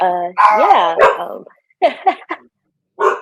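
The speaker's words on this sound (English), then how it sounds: "I'm sorry that the dogs cut you off" Several dogs barking and yipping in a home, loud and close, with a drawn-out howling whine followed by short sharp barks in quick bursts and a final bark after a pause; a person speaks briefly.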